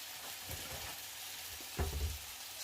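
Big chunky potatoes frying in a covered pan, a soft steady sizzle and crackle with a few louder pops and a low thump near the end, close and quiet.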